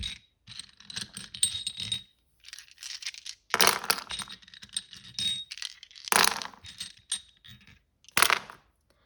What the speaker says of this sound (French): Ok, donc on va regarder maintenant avec les dés.